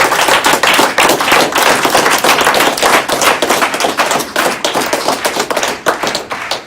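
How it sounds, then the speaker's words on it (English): Dense applause from a crowd, many hands clapping steadily, then thinning and fading toward the end. No voices. "Let's give George a big round of applause."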